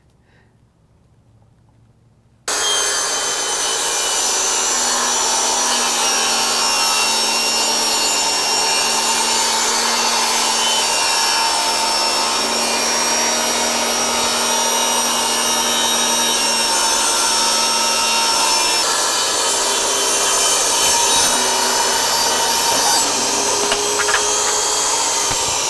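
A power saw cuts through wooden planks for a jet ski dolly, starting abruptly after a quiet moment and then running loud and continuous with a steady high whine for over twenty seconds.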